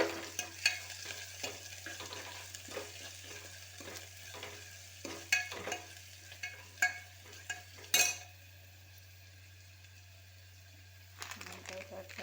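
Ground garlic and ginger paste goes into browned onions in a pan for sambar, making a close sizzle with repeated scraping and stirring strokes that stop partway through, while a person talks over it.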